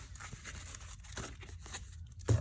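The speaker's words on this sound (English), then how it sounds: "we'll just shuffle or do a quick shuffle here" A deck of Magic: The Gathering cards gets a quick shuffle, giving a run of soft papery riffling bursts, close and fairly quiet, with no talking.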